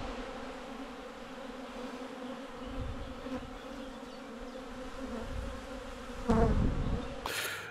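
A dense, low hum of many honeybees buzzing close by at a hive during a honey harvest, continuous and fairly quiet, with a few brief knocks and rustles near the end.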